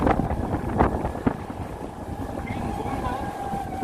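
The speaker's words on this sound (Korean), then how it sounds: "바람이 부니까 시원하네" Wind blows across a golf course in Ho Chi Minh City, Vietnam, producing a steady low rumble and buffeting against the microphone, with muffled voices faintly underneath.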